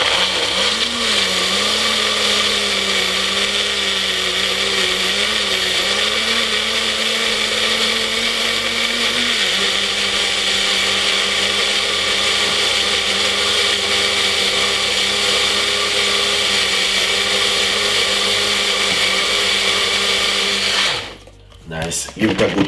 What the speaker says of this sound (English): all we're going to do is just blend this for about 3 to 4 minutes